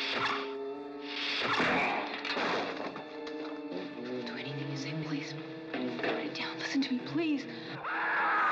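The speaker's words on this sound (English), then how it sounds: "Screaming" A woman screams in a 1978 horror film trailer, giving drawn-out wailing cries that rise and fall in pitch at a moderate level over a tense backdrop.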